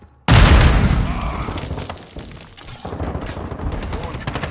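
Call of Duty: Modern Warfare 2 gameplay with a grenade going off in a sudden loud boom, followed by rapid bursts of close gunfire and rumbling battle noise, with a voice speaking under the din.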